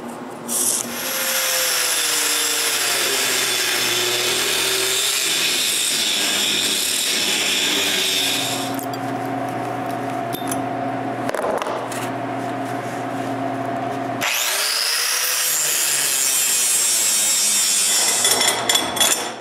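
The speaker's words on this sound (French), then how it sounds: "Maintenant, je dois couper la plaque de métal du mécanisme de la croix." A power saw cuts the metal plate of a cross mechanism on a mobile workbench in a woodshop, with long loud harsh runs broken by a quieter humming stretch and then another cut.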